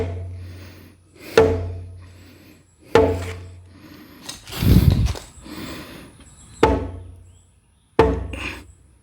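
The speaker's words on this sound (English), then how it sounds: "Oh, I need my hammer." A hammer strikes wood while stall beams are fitted in a horse barn under construction, five or six loud, sharp, separate blows spaced a second or two apart, with a scraping rub in between.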